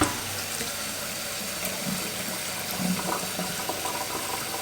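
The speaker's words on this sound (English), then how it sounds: "I'm just going to make sure my water is running cold" Tap water runs steadily in a continuous hiss, with faint clinks and splashes beneath the flow.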